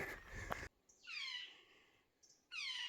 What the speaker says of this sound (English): No idea what he is, but he's happily chirping away.